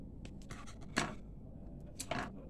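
The end of a wooden toothpick is cut off, making two short, crisp snaps about a second apart over faint handling rustle, quiet and close.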